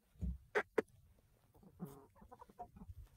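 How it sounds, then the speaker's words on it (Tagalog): Backyard chickens clucking in short, separate bursts at close range, a few sharp clucks early on followed by softer, murmured clucking and low shuffling. "these are my chickens"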